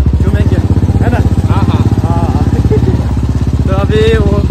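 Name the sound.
motorcycle engine running while riding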